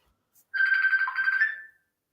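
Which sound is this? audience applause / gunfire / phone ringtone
phone ringtone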